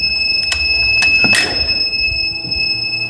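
A 5 kW off-grid solar inverter showing error code 05 sounds a continuous high-pitched buzzer alarm. The tone stays steady throughout, with a few sharp handling clicks and a brief rustle over it.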